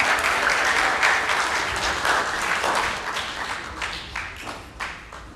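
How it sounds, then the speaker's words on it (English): An audience at a Pasifika Fusion rehearsal event applauds a high school student speaker, the clapping thick and continuous at first, then gradually thinning and fading with a few louder scattered claps near the end. "Another round of applause for Miss Victoria Brown from Palmy Girls High."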